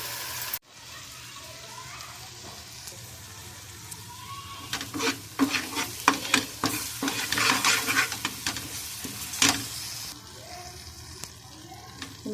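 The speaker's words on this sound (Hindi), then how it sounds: "मसाला भुन चुका है" Ground masala of coriander and turmeric powder roasting in a pan, quiet sizzling with irregular scraping and stirring strokes that build in the middle and ease off, close up.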